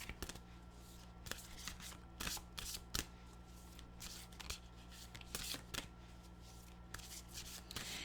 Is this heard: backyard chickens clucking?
no